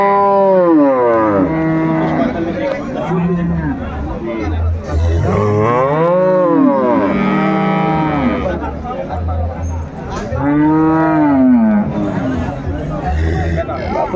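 A dairy cow and her calf moo loudly and repeatedly at the Ambari cattle market in Dinajpur, with long drawn-out calls rising and falling over constant crowd chatter and nearby talking.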